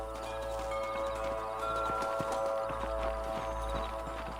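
Horse hooves clip-clop in a steady trotting rhythm in the Western video game Red Dead Redemption, moderately loud and close over a constant low musical drone.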